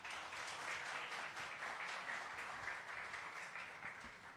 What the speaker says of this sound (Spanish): le damos una bienvenida y un caluroso aplauso por favor a Paula del Fierro